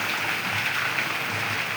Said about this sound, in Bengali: টিপ টিপ করে টপ টপ করে বৃষ্টিটা পড়ছে